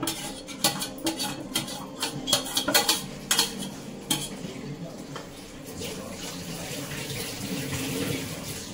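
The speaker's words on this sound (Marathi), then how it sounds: "आता पाणी येतंय" Tap water running in a kitchen sink, a steady rushing flow that builds in the second half, preceded by cutlery and dish clatter.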